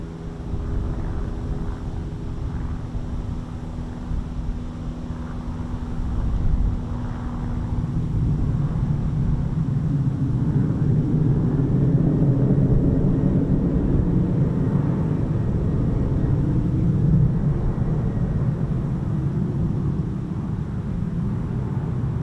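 A Lockheed F-35 Lightning stealth jet of the RAF's 617 Dambusters squadron performs a vertical landing at an RAF airbase, a loud, steady low-pitched roaring rumble that swells after several seconds and holds without a break, with no talking.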